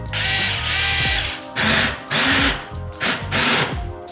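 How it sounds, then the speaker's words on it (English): A power drill with a tiny bit whirs loudly and close by in several short bursts, drilling pilot holes for a front lip on an Audi S3, stopping and restarting with brief pauses between runs. "I'm gonna take my drill with a little tiny drill bit and basically do a pilot hole"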